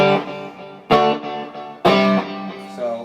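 An electric guitar plays clean, ringing chords through a Dumble-style amp clean channel with reverb and delay, three strummed hits that sustain and fade.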